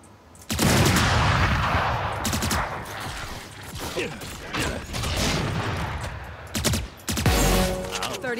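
Gunfire in a first-person shooter video game: sharp loud shots and rapid bursts come near the start and again toward the end, over a dense mix of game sound effects.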